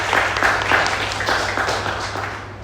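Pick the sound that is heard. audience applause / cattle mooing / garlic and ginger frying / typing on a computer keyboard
audience applause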